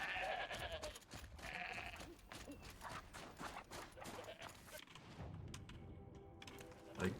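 Goats bleat in the video game Horizon Zero Dawn, several quiet, scattered bleats over a faint bed of in-game ambience and light footstep clatter, fairly soft throughout.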